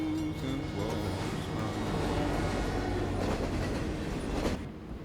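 A train rumbles along in the Twin Mirror video game, a steady rolling clatter of wheels on rails with faint squeals, then a brief loud swell near the end before fading.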